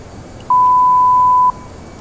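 A single steady electronic beep sounds for about a second in the cockpit of an Aerosoft A320 in the Prepar3D flight simulator, clean and loud over faint background hiss.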